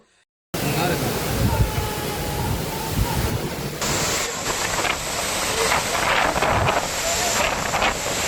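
A constant, broad rushing roar of the Agaya Ganga waterfall fills the scene, steady and loud throughout after a brief quiet start.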